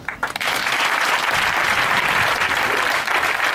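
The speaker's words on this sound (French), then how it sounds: "Tu peux acclamer aussi." A church congregation breaking into loud, dense applause that swells within the first half-second and holds steady as a sustained wash of many hands clapping together.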